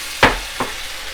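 A spoon gives two quick scrapes through Philly cheesesteak sloppy joe sauce in a pan, the first louder than the second, over a faint background hiss.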